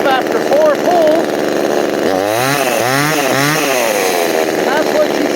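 A small gas chainsaw runs loudly up close, its buzzing engine revving up and down in several surges before settling back to a steady idle.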